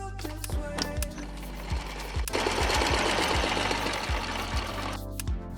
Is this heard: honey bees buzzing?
no